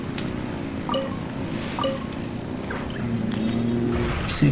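Boat engine running in Genshin Impact, a steady low drone with a tonal hum that rises near the end, mixed with wind and water noise and a few faint chimes.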